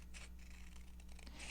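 Quiet scissors snipping paper for a handmade card, several small crisp cuts close up over a low steady hum, with no talking.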